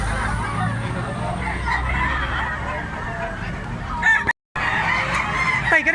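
Native chickens at a market, a rooster crowing and hens clucking over a busy background of crowd babble and talking voices, with one brief moment of silence near the end.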